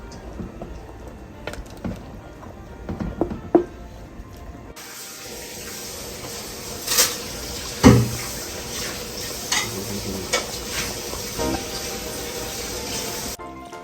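Chicken pieces for Pambota, an Equatorial Guinean dish, are stirred in hot oil in a pot. Scattered clinks and scrapes of a utensil against the pot lead into a fuller frying sizzle partway through, with scrapes continuing.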